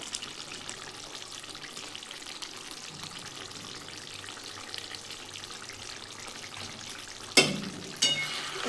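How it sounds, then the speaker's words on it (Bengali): Chicken and potato curry in a pot, a quiet low simmering bubble for most of the stretch, then two brief clattering stirs of a spoon against the pot near the end, with no talk. "একটু নাড়িয়ে দিলাম"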